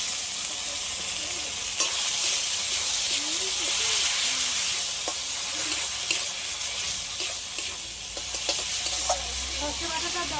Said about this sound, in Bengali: সবশেষে সর্ষে বাটা, একদম অল্প করে একটু জল দিয়ে দিলাম।